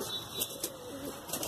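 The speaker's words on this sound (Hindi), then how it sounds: "मद्रासी एक्चुअली इनका नाम है कबूतर" Madrasi pigeons coo softly in a loft, a few low throaty murmurs over a quiet hiss, faint and close.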